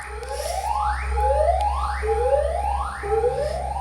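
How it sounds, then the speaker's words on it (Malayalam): An ambulance siren passes in the background, its rising wail repeating four times at a steady one-second rhythm over a low rumble, fairly loud and continuous. "ബാക്ക്ഗ്രൗണ്ടിൽ കൂടെ ഒരു ആംബുലൻസ് ഒക്കെ പോയിട്ടുണ്ട്."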